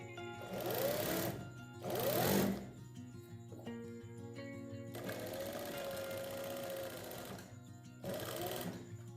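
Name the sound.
sewing machine stitching a kurti along the marking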